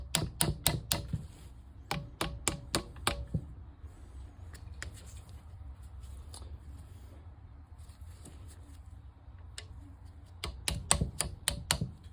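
Sharp metallic taps from a bushing being driven into a KingSong S22 electric unicycle shock, in quick bursts of four to six strikes at the start and again near the end, with quieter scattered knocks between.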